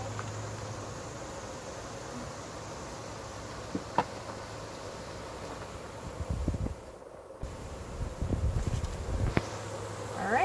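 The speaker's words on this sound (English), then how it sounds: "Any of these bees that are out flying around, they'll just find their way back into the entrance on the wall." Bees buzz faintly around an observation hive frame in a steady, low hum beneath wind and handling noise, with a few brief knocks and rustles near the end.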